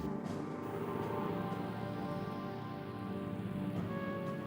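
Steady rain during the season of rain and sleet on the Russian Eastern Front, a dense even hiss that holds at the same level throughout, with faint sustained tones running beneath it.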